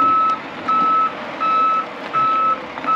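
A loaded dump truck backing in, its reversing alarm giving five evenly spaced long beeps over a low engine idle, loud and nearby.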